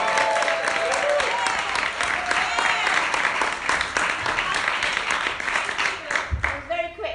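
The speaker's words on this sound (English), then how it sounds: "I think this deserves a big round of applause." A big round of applause from an audience at a drama school masked-theatre session, dense and loud clapping with cheers, a voice speaking over it near the end.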